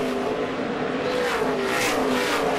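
A NASCAR Xfinity Series race car roars at Iowa Speedway after slipping loose in the corner and kicking up smoke and dust. The engine drone is loud, continuous and slightly rising, with no voices.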